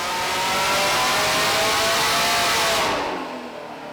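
A GM LT4 engine in a car roars through a full-throttle pull, a loud, sustained, rising rev that climbs steadily before easing off near the end, with no voices.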